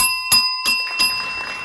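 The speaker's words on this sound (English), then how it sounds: "Pete, you got a bell." Three bright rings of a small bell, evenly spaced, each leaving a clear sustained tone that lingers after the strikes.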